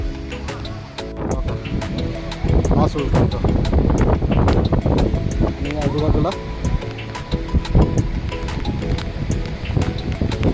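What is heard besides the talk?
strong wind on hilltop fort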